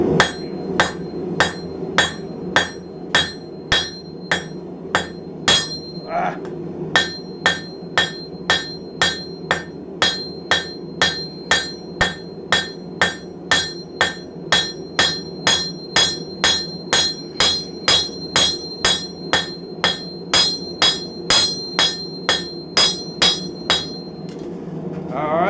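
A hammer strikes hot metal on an anvil while forging a mason jar handle, dozens of sharp ringing blows in a fast steady rhythm with a brief pause early on, close and loud.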